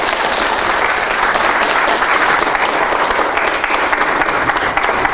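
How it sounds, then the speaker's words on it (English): An audience at a science demo event breaks into sustained, dense applause, many hands clapping loudly and evenly throughout. "we can give everyone a round of applause for a great"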